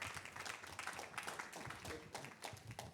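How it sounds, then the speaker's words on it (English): An audience claps steadily for two guest panelists at a public health and safety panel event, a dense, even round of applause lasting a few seconds with no talk over it. "Maybe we could start off with just a big round of applause for our two guest panelists."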